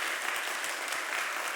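Church congregation applauding to welcome a visiting missionary at a Sunday service, a steady, dense wash of many hands clapping throughout, with no talk over it.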